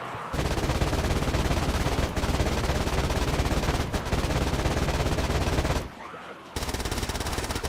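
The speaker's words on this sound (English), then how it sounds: "Even the Uzi just shreds the zombies" An Uzi fires in a zombie video game, loud rapid automatic bursts running almost continuously, broken by a short lull before the shooting resumes.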